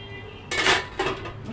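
A large pot of about a kilo of washed, drained rice gets stirred into tomato sauce for stuffed cabbage, giving two close bursts of spoon-on-metal scraping and clinking with short gaps between, alone without talk.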